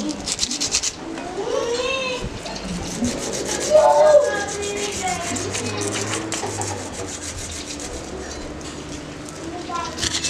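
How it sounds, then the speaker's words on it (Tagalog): A Honda motorcycle crash guard bracket for a mini driving light is sanded by hand, giving repeated scraping rubs under ongoing conversation. "So mga idol, nililiha yan."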